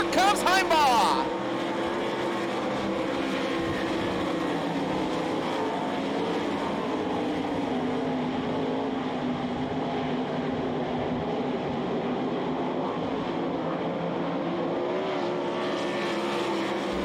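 Sprint cars with 360 engines roar around a dirt oval in a steady, loud, continuous drone of several engines together, with an announcer's voice running over the racing noise throughout.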